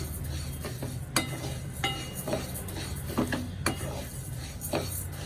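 Washed and dried rice dry-roasting in a pan until it pops, with a spoon scraping and clinking against the metal in irregular strokes over a steady low background hum.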